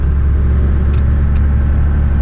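A Cummins diesel truck engine rumbles steadily through a test drive after delivery valve work, a loud, continuous low drone from inside the moving vehicle with two brief higher hisses partway through.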